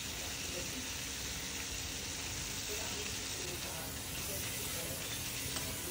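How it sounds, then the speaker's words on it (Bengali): Pointed gourd (kakrol) pieces fry with turmeric in hot oil, giving a continuous, even sizzle and hiss, fairly faint and close, with a few soft stirring sounds. "কাঁকরোলগুলোকে ভালো করে এখন ভেজে নিব"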